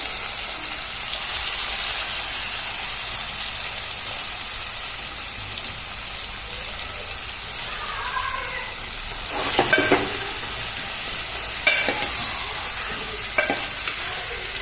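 Mutton for a Champaran-style curry cooks steadily in a pan, giving a continuous soft sizzle with a few louder utensil scrapes and knocks toward the end, close and without talk.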